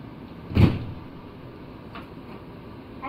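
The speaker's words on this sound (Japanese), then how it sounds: "ドアが閉まります。" Doors on a Utsunomiya Light Rail HU300 tram slide shut with one quiet thump near the start, followed by a faint click and low cabin hum.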